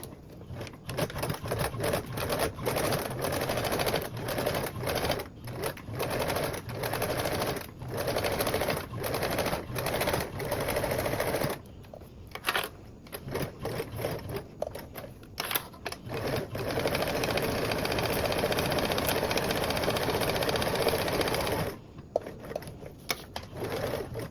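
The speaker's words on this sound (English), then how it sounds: "I'm going to top stitch along this join seam, and then after that I'm going to go ahead and baste around the remaining of my perimeter" A sewing machine top stitches along a join seam of a circle bag, running close and loud in rapid mechanical bursts with brief stops and restarts between runs.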